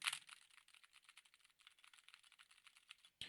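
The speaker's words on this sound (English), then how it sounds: "So I'm going to type on this keyboard right now" Rapid typing on a computer keyboard, heard through a gaming headset's noise-reduced microphone: a quick, fairly quiet run of clicky keystrokes, alone and close, ending with a louder tap.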